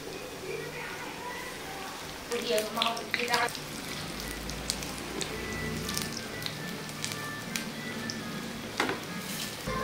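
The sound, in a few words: bonda snacks frying in hot oil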